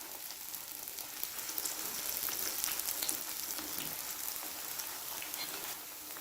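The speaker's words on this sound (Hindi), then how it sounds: "और अब ये जो बाकी की ब्रेड है इनको भी मैं इसी तरीके से फ्राई कर लेती हूँ।" Bread slices frying in very hot oil for sweet bread kaja, a dense, even crackling sizzle that swells slightly and holds steady, close and alone without talk.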